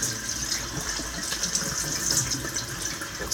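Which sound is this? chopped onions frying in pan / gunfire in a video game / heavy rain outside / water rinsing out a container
water rinsing out a container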